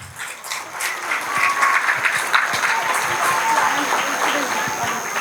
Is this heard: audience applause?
yes